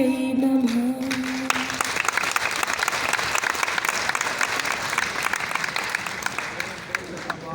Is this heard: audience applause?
yes